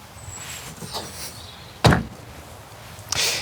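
The heavy tailgate of a Vauxhall Vivaro Life Electric van closes with one loud, close thud, followed a moment later by a second, softer clunk of the latch.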